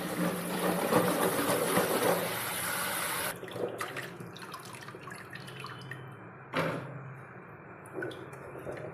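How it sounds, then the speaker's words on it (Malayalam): Water runs and splashes while peeled Chinese potatoes are washed, a continuous stream for about three seconds, then lighter drips and sloshing with a short burst of running water later. "നല്ല ശരിക്ക് കഴുകിക്കളയണം"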